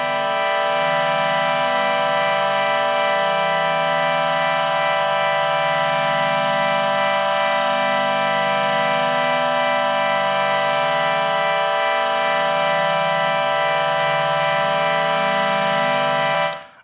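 Ambient synth pad on an Elektron Digitone with moving feedback, a sustained dense wall of layered tones that slowly shifts, loud and steady throughout with no talk.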